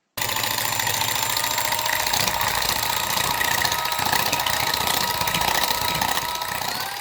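An electric hand mixer whirs steadily at high speed, beating sour cream for a Russian honey cake (medovik), a constant buzzing motor drone with no voices over it.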